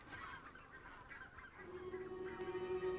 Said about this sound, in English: wave after wave of white-fronted and red-breasted geese fly south to wintering grounds